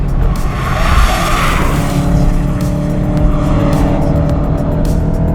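A car brakes hard on a track during an advanced driving session, its engine drone and tyre scrub loud and steady throughout, with a rising squeal of tyres under heavy braking.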